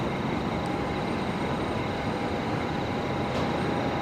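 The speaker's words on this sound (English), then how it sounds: "Qantas 941 is now rolling, heading off to Perth, the 737-800" A Qantas Boeing 737-800 bound for Perth rolls for a full-length night departure at Brisbane Airport, heard as a steady, broadband engine roar with a thin whine, continuous and fairly distant, no voices.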